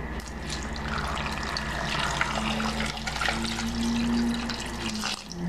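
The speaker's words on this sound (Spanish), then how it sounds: "Ahora sí le voy a agregar agua." Water, about a litre, is poured into a pot of locro, a squash stew, making a continuous close splashing gurgle over a low steady hum.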